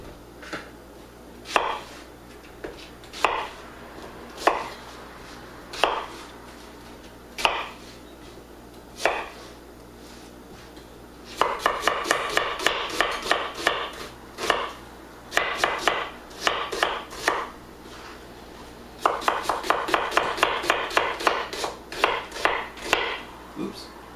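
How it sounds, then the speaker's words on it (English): A knife chops onions on a cutting board in a home kitchen. Slow, spaced single knocks give way to quick rhythmic runs of close, crisp chops, with no talking. "Chop my onions."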